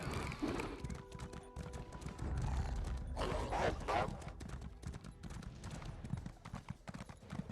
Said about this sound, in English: But I will ignore them and continue riding on my bone horse.